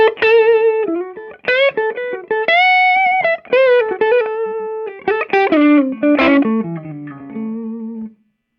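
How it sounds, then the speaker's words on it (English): Electric guitar played clean through a 65 Amps London amp, single notes and short melodic phrases with sustained, ringing tones and brief pauses, close and loud, with a slight edge of breakup and no voices. "This is the sound of the amp."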